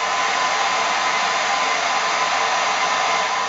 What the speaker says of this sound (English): you want to dry it off with the hairdryer again